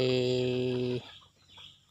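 A chicken gives a loud, drawn-out tonal call that cuts off after about a second, followed by faint, scattered farmyard noises.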